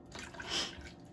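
Water is poured into a cup on a kitchen counter and spills over the side, making a faint, brief splashing trickle that swells in the middle, with no talking.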